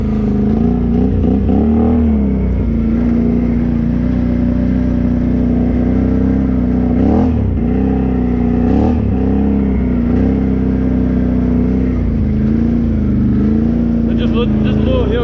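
A Can-Am 650 ATV climbing a hill, its engine droning loud and close with a steady rumbling tone that rises and falls slightly as the throttle shifts, with occasional rattles and clatter over the terrain.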